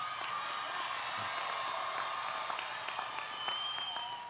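Applause from a large audience at a Chico State College of Agriculture graduation ceremony, steady dense clapping mixed with scattered cheers and whoops, a little distant and continuous for several seconds.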